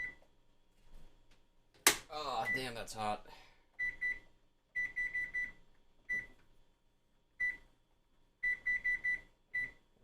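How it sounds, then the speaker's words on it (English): A kitchen timer for roasting chicken beeps in short repeated bursts, mostly in quick clusters of three or four, fairly close and clear, with a person speaking briefly near the start. "That is the timer for the chicken."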